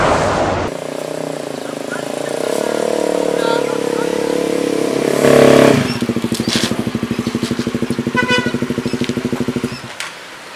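A motorcycle engine idles and revs nearby, then settles into a rapid steady putter for several seconds before cutting off, with people talking briefly around it.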